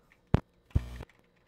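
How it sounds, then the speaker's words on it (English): Computer keyboard keys pressed for a Control Shift C shortcut, a sharp single click followed by a slightly longer clattering press, close and isolated in a quiet room. "It's good you see those keyboards being pressed."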